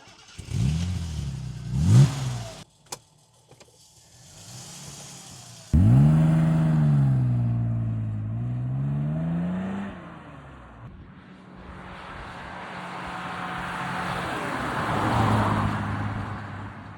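A BMW E9 3.0 CSI with its 3-litre six pulls hard under acceleration from inside the cabin, engine note rising through the gears in loud sweeping surges, with a short lift between them and a steady drone at the end.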